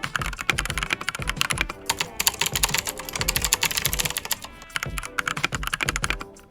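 Rapid, continuous typing on a Redragon K668 mechanical keyboard with plastic build, crisp clicky keystrokes, close up and steady, with brief pauses between bursts.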